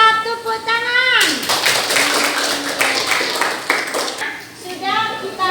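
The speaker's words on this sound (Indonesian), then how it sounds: "Tepuk tangan." A class of students in an Islamic studies lesson claps hands in a burst of quick, dense clapping lasting a few seconds, with a teacher's voice and children's voices before and after.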